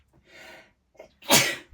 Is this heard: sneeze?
yes